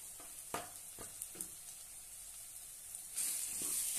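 Spiced brinjal curry with red chili powder, coriander powder and black masala sautés in a pan, a faint continuous sizzle broken by a few sharp spatula taps and scrapes, growing slightly louder near the end.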